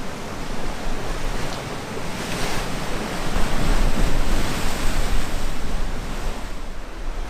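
Wind and sea waves at a coastal cave on the Isle of Skye, a loud, continuous roar of surf and gusting wind buffeting the microphone, swelling midway and steady throughout.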